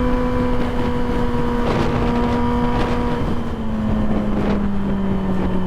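Exhaust of a custom Yamaha R6 sport motorcycle while riding, a loud continuous engine drone that eases slightly in pitch as the bike decelerates, with wind rushing across the microphone throughout.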